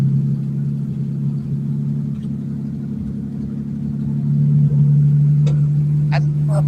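A 1950 Plymouth engine idles steadily after being primed with fuel, a close, even low rumble that holds throughout, with a brief slight swell near the end.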